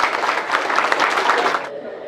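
An audience at a cultural stage program claps loudly and steadily, a dense wash of many hands close by that runs for about two seconds before dropping off abruptly.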